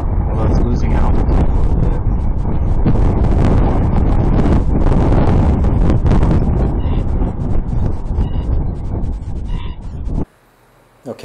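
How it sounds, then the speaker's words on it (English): Strong wind buffets a ground recorder at a remote-control flying field, a loud continuous broadband roar of gusts and mic rumble that cuts off abruptly near the end. "I left the volume up there so you could hear the wind on the ground recorder. It was really blowing pretty hard."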